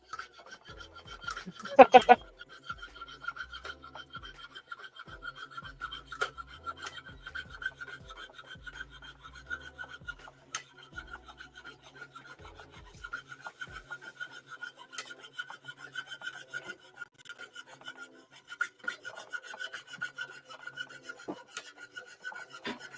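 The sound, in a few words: lapidary saw cutting opal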